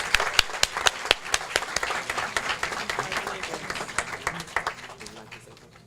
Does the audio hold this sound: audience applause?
yes